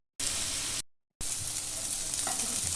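Cauliflower (gobi) sizzles and is stirred in a hot pan for gobi fried rice: a loud, steady fry hiss breaks off briefly, then resumes with scraping stir noises.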